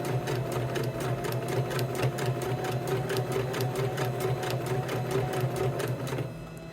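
A sewing machine stitches steadily around a rope pumpkin coaster in a continuous, even run of rapid stitching that sounds close and loud, then stops shortly before the end.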